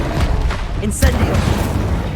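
A fire spell blast from the game Hogwarts Legacy bursts out as one sharp boom with a bright crackling flare, close and loud over steady game ambience.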